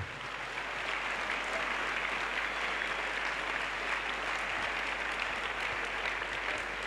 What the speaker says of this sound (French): Let us clap to the Lord.